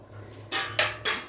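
A spoon clinks and scrapes against a bowl while ingredients for country chicken and coconut are stirred together, three bright metallic strikes in quick succession, close and clear.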